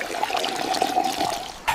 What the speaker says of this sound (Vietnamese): người Homo habilis đổ nước suối vào